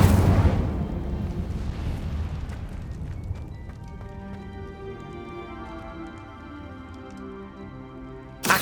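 Incendio fire spell cast in Hogwarts Legacy: an opening whoosh and burst of flame rolls into a long, fading rumble, with magical tonal shimmer ringing underneath and a sharp burst at the very end.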